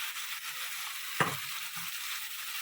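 Chicken and yogurt frying in oil in a karahi make a soft, even hiss with one brief stirring knock partway through; no one speaks.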